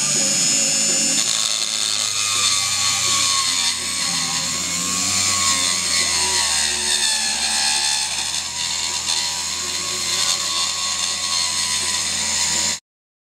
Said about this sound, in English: Dremel tool is absolutely perfect for this job.